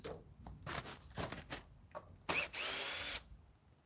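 A power drill tightens bolts on a sawmill canopy in short bursts, with several quick whirring pulses followed by a longer sustained run, close and clear amid light handling noises.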